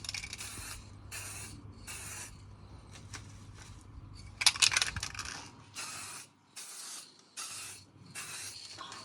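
A spray paint rattle can hisses in repeated bursts of about a second each, close and fairly loud, as paint goes onto a Harley Benton DIY guitar kit body, with a brief clatter midway.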